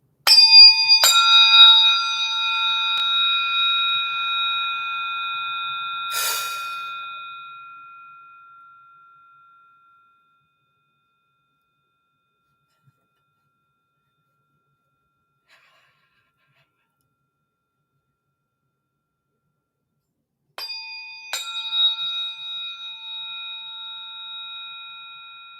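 Two bright metallic tones ring out after soft strikes, sustaining and slowly fading, then after a long silence another pair is struck and rings again.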